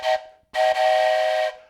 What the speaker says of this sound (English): my trusty toy train whistle